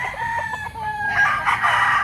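Fighting roosters crow close by, several overlapping calls layered over one another, with clucking from more birds among many fowl kept in Tanauan City, Batangas.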